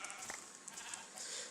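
Sheep bleat in the video game Minecraft, with a few short nasal calls rising over steady background game ambience.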